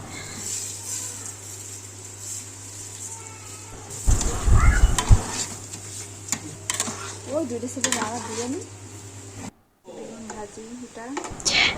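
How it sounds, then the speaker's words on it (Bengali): Desi chicken meat is sautéed with spices in a home kitchen. A spoon scrapes and stirs against the pan over a low, steady sizzle, with occasional clatter of utensils and people talking nearby. "এটা হচ্ছে মুরগির মাংস দেশি মুরগির মাংস সুন্দরভাবে কষাই নিচ্ছে"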